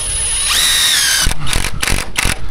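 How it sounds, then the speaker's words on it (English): A power drill whines at high pitch as it drives a long 3 1/8-inch screw at an angle into wood wall framing for a building addition, followed by a few knocking, clattering bursts. "Why am I putting that screw at an angle?"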